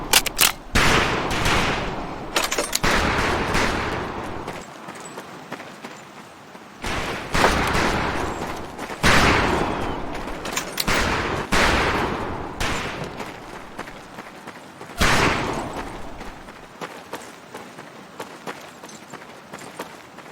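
Rifles crack in bursts during boot camp shooting practice in Medal of Honor Pacific Assault, loud and close with several volleys in a row, each trailing off in echo.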